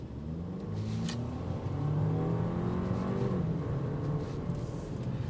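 A 2025 Audi A5 Premium Plus accelerating from about 25 mph, its turbocharged engine note rising steadily with a brief hesitation from turbo lag, heard close from inside the cabin with no talking.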